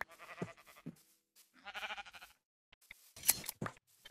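Minecraft sheep give several short, wavering bleats in separate bursts with brief silences between, close and clear.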